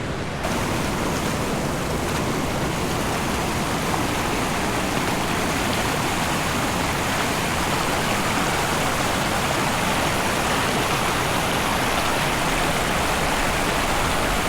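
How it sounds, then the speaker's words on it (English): A flooded creek in Arkansas rushes fast, a loud, continuous roar of churning water that holds steady throughout with no voices. "This creek almost never has any water in it, and here, look at it now."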